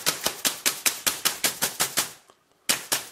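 A hammer strikes a slightly bent scrap of metal to flatten it: about a dozen sharp, evenly spaced ringing blows close by, a brief pause, then two more strikes, with no talking.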